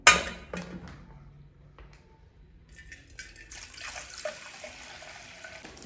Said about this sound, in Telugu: ఇప్పుడు ఓట్స్లోకి లైట్గా గరం చేసుకున్న వాటర్ వేసుకుందాం.